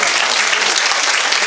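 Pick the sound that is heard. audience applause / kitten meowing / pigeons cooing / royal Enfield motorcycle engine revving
audience applause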